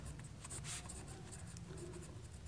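Pen or chalk writing out a Class 10 maths solution, a steady scratchy stroking that runs throughout with short pauses between strokes, close and fairly quiet with no talk.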